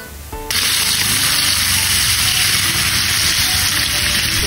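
Ginger, garlic and onion frying in oil, starting with a short quiet rustle before a loud, steady, hissing sizzle takes over and continues close up with no voices.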